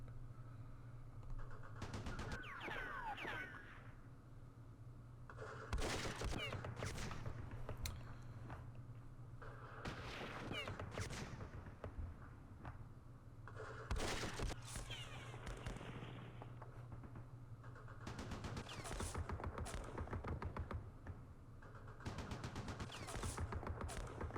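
Bursts of machine-gun and rifle fire from the Campaign Series Vietnam wargame during Operation Starlite, coming in repeated dense volleys over a steady low hum, moderately loud and crackling.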